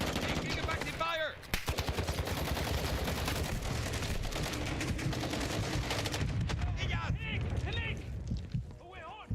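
Dense, continuous gunfire from Black Ops 6 combat, rapid automatic bursts with heavy fusillades filling nearly the whole stretch, loud and close, with a brief lull early on and voices calling out over it.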